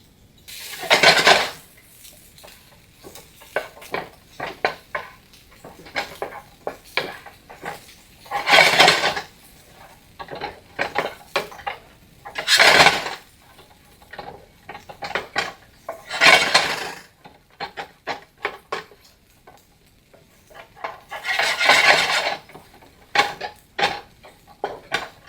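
Garlic and vegetables are sauteed in a pan, with repeated metal utensil scrapes and clanks coming in loud bursts amid quieter clinks throughout.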